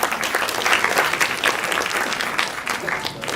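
Loud, dense applause from an audience at a Singapore CD launch event, a steady wash of many hands clapping that fills the short stretch without voices on top.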